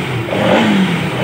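Motorcycle engine revving steadily after fuel pump troubleshooting, a loud, close mid-pitched drone that rises and holds throughout, with no voices.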